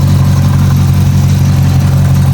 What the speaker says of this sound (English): I feel like I hear a fan rubbing.